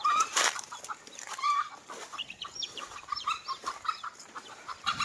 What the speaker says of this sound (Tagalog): Ayun o, manok ko yan.